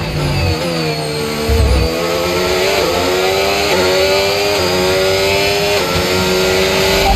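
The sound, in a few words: F1 race car engines racing in the video game F1 25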